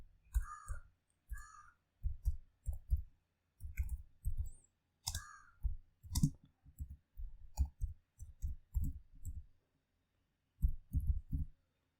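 A command is typed on a computer keyboard in short bursts of heavy, clattering keystrokes separated by brief pauses, close and alone with no talking.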